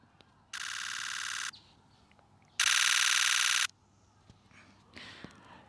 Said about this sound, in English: the sound that this electronic shutter makes when shooting, I find a bit jarring